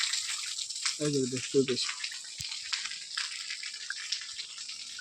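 Steady rain falls in cloudy, cool weather, a continuous close hiss of water with splashing texture, while a person speaks briefly partway through.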